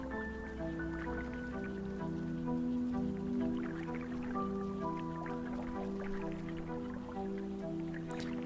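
Water trickles and drips steadily through a pipe system in the video game Sandustry, a soft continuous liquid patter over tonal background sounds for the whole stretch.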